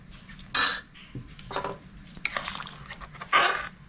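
A metal spoon stirs chopped capsicum into chicken soup in a pot, making several distinct clinks and scrapes against the vessel in an uneven rhythm, close and clear over a quiet background.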